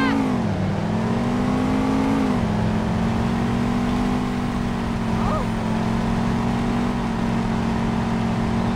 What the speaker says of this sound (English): You're driving too fast.